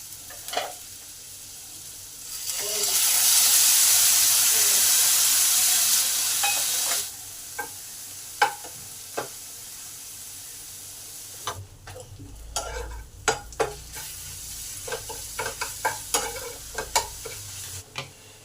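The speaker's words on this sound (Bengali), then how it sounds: "অল্প পরিমাণ তেল দিলাম, পেঁয়াজ আর টমেটোটা হালকা করে ভেজে নেব" Onion and tomato fry lightly in a little oil for a fish-roe kofta curry gravy. A surge of hissing sizzle swells for several seconds, then fades to quieter frying under frequent sharp clicks and scrapes of stirring.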